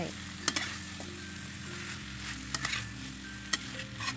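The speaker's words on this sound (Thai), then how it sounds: "ใส่หน่อไม้จีนลงไปผัด" Chinese bamboo shoots stir-fried in a pan, a soft steady sizzle with a few sharp clinks of a utensil scraping the pan, close and fairly quiet.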